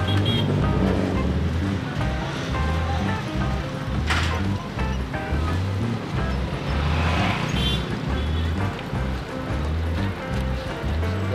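Road traffic near Karangalan Market in Cainta, Rizal, Philippines, with a steady, fairly close rumble of engines that pulses and swells, plus faint scattered clatter from the street.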